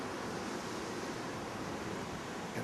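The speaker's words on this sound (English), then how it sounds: "Got a few waves down there this morning, Jack." Ocean waves break against the rocks at Steep Point, Western Australia, the westernmost point of the mainland, giving a steady, loud roar of surf with wind rushing over the microphone.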